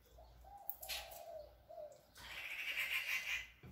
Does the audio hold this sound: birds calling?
yes